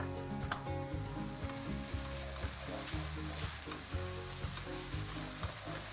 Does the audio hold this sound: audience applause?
no